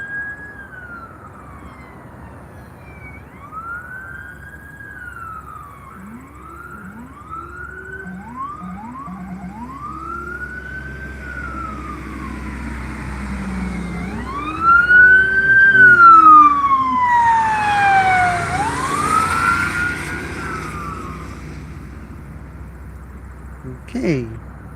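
Emergency vehicle sirens wail at an airport, rising and falling in long sweeping tones that swell louder and nearer midway before fading, with engine rumble underneath.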